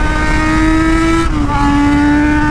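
A sport motorcycle, an XJ, idles low in gear with a loud, steady humming drone whose pitch dips slightly partway through, close and continuous with no voices.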